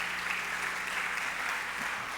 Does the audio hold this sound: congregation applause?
yes